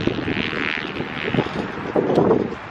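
Small airplanes droning overhead on a hot, sunny day during a family bike ride, a steady broadband engine hum mixed with wind noise that swells slightly toward the end, with no talking.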